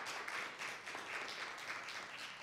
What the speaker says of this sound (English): If we can give the Lord another hand clap of praise.